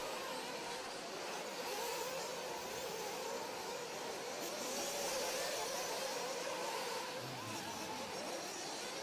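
RC race cars at the 2024 Silver State Championship qualifying run laps around the track, a continuous high whining engine buzz that rises and falls as the cars pass, steady and moderately distant.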